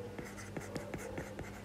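A pen writes out a definition of longitudinal strain, with quick, rhythmic scratchy strokes close up, roughly five taps in under two seconds, over a faint low hum.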